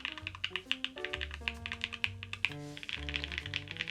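Rapid, steady keystrokes on a custom Brutal V2 1800 keyboard with Cherry Blossom switches and a half plate, each press a crisp muted clack, close and fairly quiet, with no talking.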